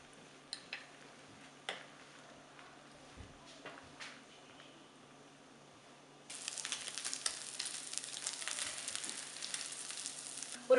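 Fish omelette egg-masala mixture in a pan of oil: faint at first with a few scattered clicks, then a steady, soft sizzle sets in partway through and continues to the end.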